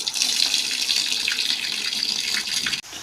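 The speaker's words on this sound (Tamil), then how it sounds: "பார்த்தீங்கன்னா தண்ணி பிடிக்குது பாப்பா" A tap runs water into a bucket in a steady, close gushing stream that fills the whole moment, loud and continuous with a brief dip near the end, no talk over it.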